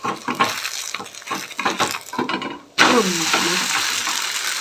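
Dibba roti fries in a pan after being flipped: a clatter of stirring and scraping, then a steady loud sizzle that carries on alone.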